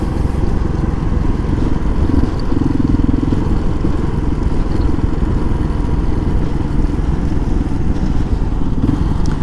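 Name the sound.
2005 Kawasaki KLR 650 motorcycle riding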